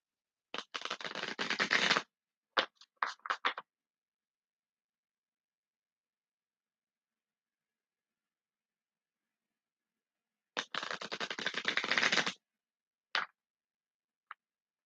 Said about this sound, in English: I'm gonna shuffle 2 more times because that just didn't feel right.